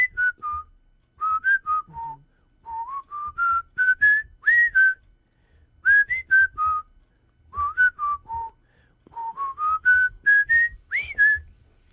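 A melodic whistled tune from a novelty record carries a lively, bouncy melody in short phrases with brief gaps, clear and prominent with no talking.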